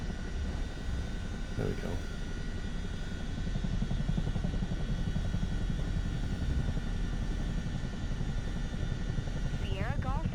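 A small aircraft touches down on a runway in Microsoft Flight Simulator 2024, a steady engine and rolling drone running throughout, with a short spoken remark early on and a brief radio-style chirp near the end.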